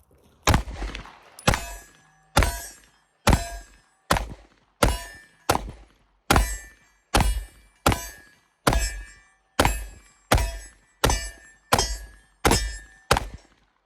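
A 17-round Magpul pistol magazine loaded one-handed, a dozen or more sharp metallic clacks and thunks falling in an even, steady rhythm, close and loud, each round snapping into place with no talking.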